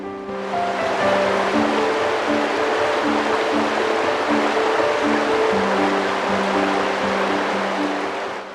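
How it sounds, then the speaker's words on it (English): Big Creek in Arkansas, a wide wilderness stream, rushes with a steady broadband wash of flowing water, continuous and fairly loud, under a sustained tonal music bed with no voices. "This wide, unspoiled stream winds through some of Arkansas's most scenic wilderness."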